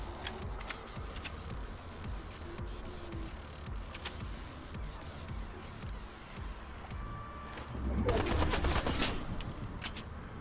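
Fortnite Chapter 3 gunfire crackles as scattered sharp pops and bursts throughout, with enemies taking potshots, rising to a dense, louder volley near the end over a faint background of game ambience.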